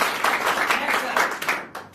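Audience applause at a Root Pure marketing business event in Balotra, a dense indoor wash of clapping from a crowd that swells in bursts and fades toward the end, with some voices mixed in.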